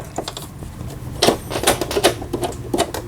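A Singer 3722a household sewing machine sewing an overlock stitch along a fabric edge, giving a rapid, fairly loud run of rhythmic mechanical clicks and taps for about three seconds.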